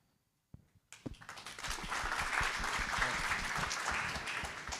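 Audience applause bursts out at a New York tech meetup after a quiet start, a dense, steady wash of clapping filling the room for several seconds.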